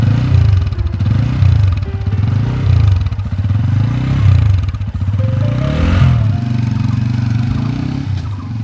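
TVS Apache RTR 180 BS6 motorcycle engine revved repeatedly, loud and close, rising and falling in several rhythmic throttle blips over a rattly idle, with no talking.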